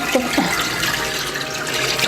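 Water splashes and gurgles as it is poured into a cooking pot for making rice cakes, a short close sloshing sound that fades into a softer trickle, with no talking.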